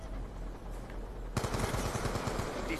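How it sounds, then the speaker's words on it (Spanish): Rapid automatic gunfire in Call of Duty Black Ops 2 multiplayer on the Frost map starts abruptly after a low rumble, a fast steady rattle of close shots continuing to the end with no talking. "Disparo efectuado."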